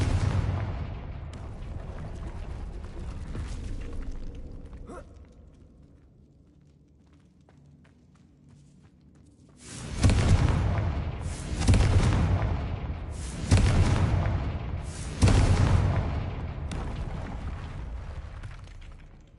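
Confringo blasting spells explode in the game Hogwarts Legacy, four loud, sharp booms in quick succession after a quieter stretch of rumbling ambience.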